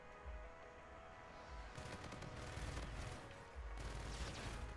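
Faint bursts of rapid automatic gunfire from a video game weapon, two stretches of dense crackling shots separated by a short pause, heard at low level with no voices over them.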